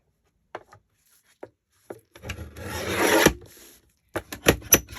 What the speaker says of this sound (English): My poor old guillotine is so old. It is getting so incredibly dull.